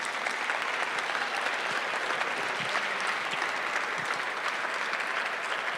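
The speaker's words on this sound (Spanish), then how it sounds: "Les pido en primer lugar un aplauso para sus compañeros." Sustained applause from an audience at a panel discussion on Mexico's democratic development, a steady dense wash of clapping with no talk over it.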